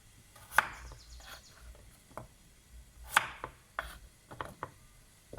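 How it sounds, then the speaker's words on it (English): Knife slicing vegetables on a cutting board for oven roasting, a series of sharp chopping taps spaced irregularly, two especially crisp cuts among softer strokes, close and clear with no talk. "Slice them a little small."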